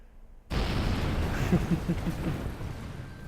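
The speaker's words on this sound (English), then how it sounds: "Just as this is going to explode again" A spacecraft explodes after landing in the Kerbal Space Program video game: a sudden loud blast breaks a brief silence, then a dense, rumbling roar of debris with crackling pops carries on to the end.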